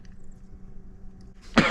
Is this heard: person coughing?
yes